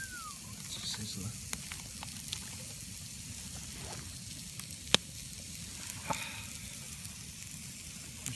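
Two burgers sizzle on a hot rock at a solo campsite, making a steady close crackle with a few sharp pops and ticks over a low outdoor rumble.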